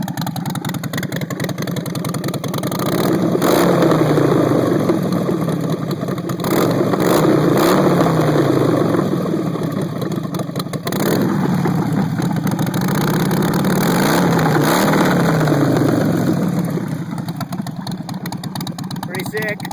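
A Harley-Davidson Sportster 48 fitted with a Twisted Choppers hookah exhaust revs in loud, repeated swells over a steady rumbling idle. The engine sounds close and continuous throughout.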